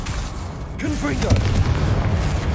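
Confringo fire-blast spell from Hogwarts Legacy, a deep booming impact swelling into a rumbling roar, with a voice speaking over the blast.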